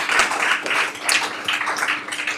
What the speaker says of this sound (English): let's have a round of applause for that set of answers for everybody